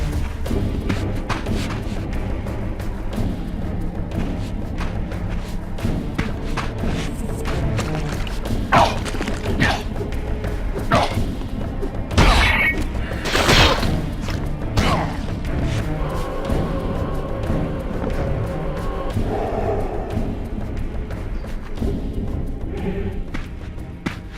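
Melee weapon strikes in Legacy of Kain: Soul Reaver 2 land as repeated heavy thuds and crashing impacts over game music and ambience, with a few sharper smashing hits standing out midway.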